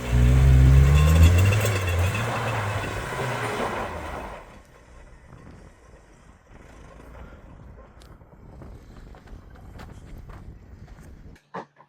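An Isuzu Amigo with worn, soft front suspension is driven, a loud engine roar and rumble of road noise that fades into quieter rattling and bumps of the moving vehicle.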